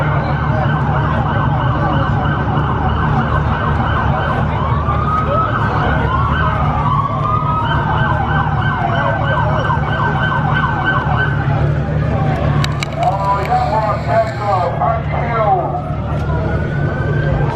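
A police car siren wails and yelps loudly and steadily at a car meet, close by and continuous, with shifting tones partway through and voices faintly underneath.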